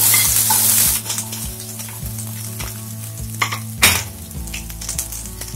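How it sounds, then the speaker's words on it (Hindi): Onions hit hot mustard oil with a loud sizzle that settles into steady frying, with a spoon scraping and stirring against the pan. "तेल गरम हो गया है और इसमें ऐड करूंगी मैं ये प्याज।"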